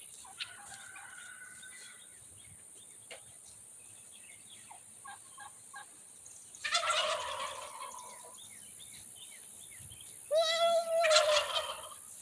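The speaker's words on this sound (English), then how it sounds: "We have to keep the turkeys put up, because if we let the turkeys out right now, they will literally be walking over everything that we have planted" Turkeys kept penned near a planted home garden gobble in two loud, close bursts, with quieter bird calls and scattered chirps between them.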